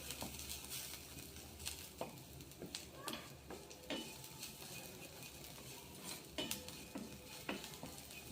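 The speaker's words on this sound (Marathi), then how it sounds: "यामध्ये आपण लसणाच्या पाकळ्या टाकून घेणार आहोत यापर आपल्याला अशाच परतून घ्यायच्या" Garlic cloves being stirred and sautéed in a pan for a ridge gourd peel chutney, a soft continuous sizzle under scattered scraping and clinks of a spoon against the pan.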